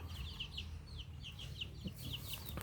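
Hens cluck softly over a steady low rumble of background noise, with short bird calls repeating throughout.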